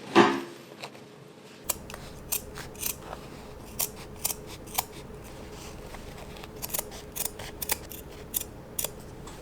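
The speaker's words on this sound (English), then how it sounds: "we're going to slash through the welt and cut diagonally to the corners and make sure we don't cut through the pocket" Sewing scissors snip through a fabric welt, cutting diagonally toward the corners of a pocket opening in a series of crisp, separate clips spaced about half a second apart, close and clear without talk.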